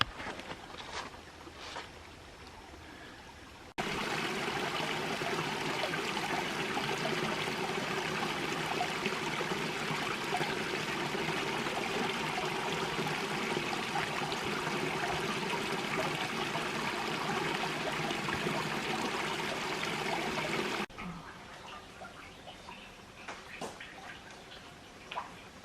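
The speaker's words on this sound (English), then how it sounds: "A nice little cascade." A small waterfall cascade in Bankhead National Forest, Alabama, in early fall: a steady, close rushing wash of water that starts abruptly and cuts off, with only faint outdoor ambience before and after.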